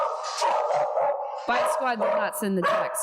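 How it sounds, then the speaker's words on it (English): A dog barks and whimpers in short yips and howls close by, mixed in with a person talking over it. "So that's the dog."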